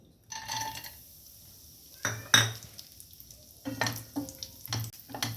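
Dry fruits go into ghee in a pan with a soft sizzle, broken by a few sharp clinks of a utensil against the pan and quiet gaps between the sounds.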